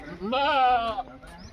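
A young pure Beetal goat kid gives one loud, close, wavering bleat lasting under a second, then goes quiet.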